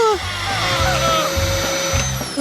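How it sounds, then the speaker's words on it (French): A vacuum cleaner droning loudly and continuously, its motor whine joined by rising and falling tonal sweeps and bursts of background music. "Ouais, un aspirateur!"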